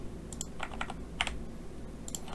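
Light typing on a computer keyboard, made of a few short clusters of soft, close keystrokes with brief pauses between them, over a quiet low hum.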